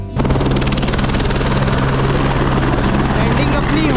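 A helicopter lands near Yamunotri Dham in the Himalayas, its rotor and engine producing a loud, steady close whine and thump throughout, with a voice talking over it.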